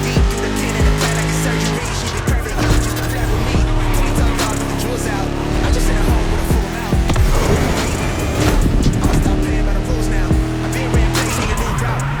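A racing car's engine roars loudly and continuously in The Crew: Motorfest, with tyre squeal and shifting revs throughout the lap and a voice speaking over it.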